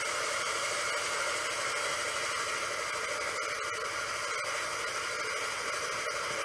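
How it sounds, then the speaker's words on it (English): A handheld clothes steamer blows a steady, loud hiss of steam onto balsa wood, unbroken for several seconds with no talking. "I think these steamers are actually designed for sort of getting creases out of clothing and stuff."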